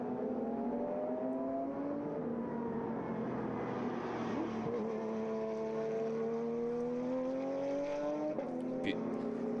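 A GT race car at the Zwartkops circuit sustains a loud engine drone with shifting pitch as it accelerates and changes gear, heard continuously under a commentator's voice.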